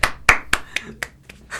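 A small group claps for a few seconds during a casual Oscars discussion podcast, giving a loose run of close, sharp handclaps with uneven spacing.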